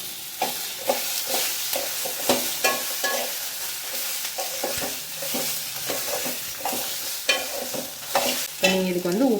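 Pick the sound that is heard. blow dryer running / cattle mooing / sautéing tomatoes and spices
sautéing tomatoes and spices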